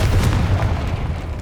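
Confringo explosion spell cast in the video game Hogwarts Legacy, a heavy booming blast with a rumbling low-end tail that fills the short moment at close range.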